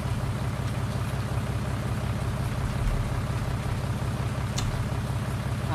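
Tractor engine in the Farming Simulator 2019 video game, a steady low rumbling drone that holds even and loud throughout, with no speech.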